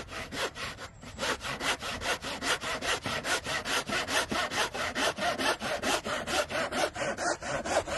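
Hand saw cutting through wood in a steady back-and-forth rhythm, roughly two strokes per second, each stroke a loud rasping rub that keeps going without pause and with no talking.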